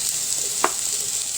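Onions tossed into a hot pan and frying, a steady soft sizzle with a couple of brief clinks or drops over it, close and alone, no talking.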